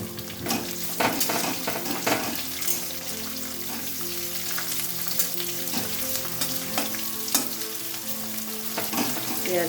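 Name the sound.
onions frying in a pan for sambar dal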